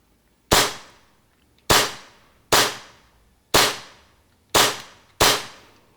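A TM Hi-Capa 4.3 airsoft pistol with a plastic slide fires six sharp, loud, close snapping shots at slightly uneven intervals, each decaying quickly into silence.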